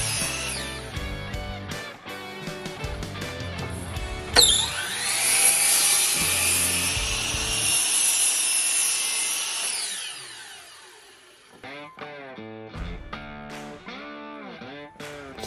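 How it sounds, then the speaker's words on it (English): Miter saw making a straight 90-degree crosscut through a wooden board for a spline jig, a loud motor whine rising into a sustained cut, then spinning down, with clunks and handling noises before and after. "we're going to make a straight cut at 90 degrees at that 8-inch mark on both ends of the board"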